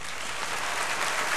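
An audience claps after a faculty convocation speech, a brief, dense burst of steady applause from a large crowd that fills the room.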